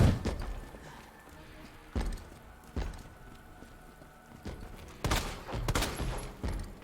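Pistol gunshots in the Resident Evil 2 remake video game, several sharp reports spread irregularly over a few seconds, ending in a quick cluster of shots, with faint game ambience between them.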